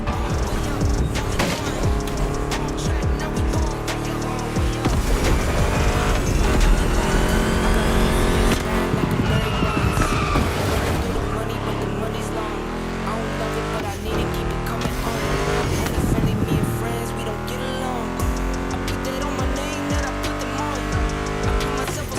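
Ford Mustang GT muscle car engines roaring and revving in The Crew Motorfest racing game, loud and continuous with tire squeals and passing cars over background music riffs.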